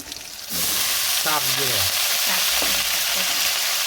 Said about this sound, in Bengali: এইবার ভেজে দিতে পারো।